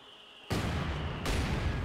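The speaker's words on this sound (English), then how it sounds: "Ooh, multiple mortars. We got 2 Wehrmacht mortars." Wehrmacht mortars firing in the Company of Heroes 2 video game: two sudden, loud, broad blasts in quick succession, each trailing into a sustained rumbling roar with no talking.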